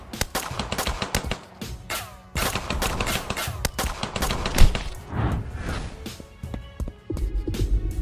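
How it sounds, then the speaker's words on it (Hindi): Rapid cartoon gunfire as several men open fire with guns in an animated Hindi story, dense bursts of overlapping shots rattling loudly for several seconds with brief gaps between volleys. "आरव के आदमी मेहुल के ऊपर फायरिंग कर देते हैं।"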